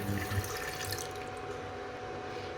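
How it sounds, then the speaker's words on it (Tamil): One glass of water pours into a silver metal pot, a steady splashing rush that holds for a couple of seconds, close by and alone. "அதில் நம்ம எடுத்து வச்சுருக்கிற இந்த 1 கிளாஸ் தண்ணியை சேர்த்துக்கலாம்."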